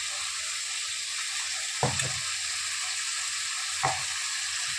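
Paneer frying in hot oil for a mustard paneer dish, a steady bright sizzle throughout with a couple of short clinks and scrapes from a utensil.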